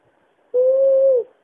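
A single sustained, steady hoot from a person imitating an owl, close and clear, holding one even tone for about two-thirds of a second.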